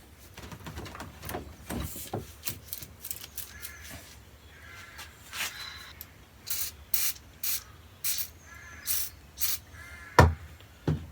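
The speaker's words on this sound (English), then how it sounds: "trusty WD-40." WD-40 lubricant sprayed onto the stuck adjustable pole of a Tesoro Bandido metal detector comes out as about a dozen short, sharp aerosol hisses spaced irregularly, close and fairly loud, with light handling noises between.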